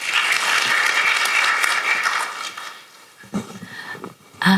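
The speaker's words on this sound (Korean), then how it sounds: "박수로 맞이해 주시기 바랍니다" A seminar audience claps to welcome a speaker on AI in healthcare, a loud, full burst of applause that thins after a couple of seconds into a few scattered claps and room noise.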